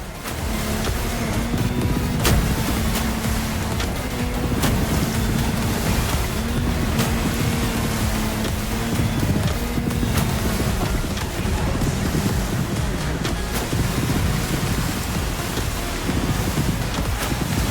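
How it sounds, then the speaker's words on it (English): Continuous churning surf and rushing water from a turbulent sea in the racing game The Crew Motorfest fill the scene, with a low engine drone and wind underneath, steady and loud throughout. "the sea got a little turbulent since the previous race"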